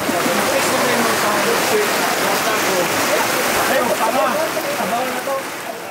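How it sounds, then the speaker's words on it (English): Rain falling steadily around people sitting outdoors, a dense even hiss of drops on surfaces that fades slightly at the end, with voices talking over it. "as we sit amongst the rain"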